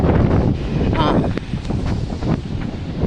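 Strong wind buffets the microphone in a loud, continuous rumbling roar, with gusts rising and falling and a voice faintly audible beneath it.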